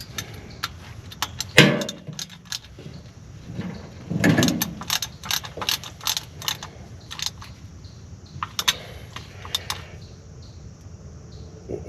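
Wrench work on the hydrostatic transmission of a TYM T494C/T574C tractor gives scattered metallic clicks, taps and light rattles. They come close by at moderate volume in an irregular rhythm, with no talking.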